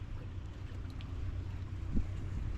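Boat engines run steadily on open water, a constant low droning rumble with wind buffeting the microphone throughout, no voices over it.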